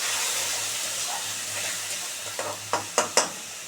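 Ground paste of tomato, onion, garlic, ginger and green chili sizzles in hot oil in a pan, a steady frying hiss broken near the end by a few short scraping stirs.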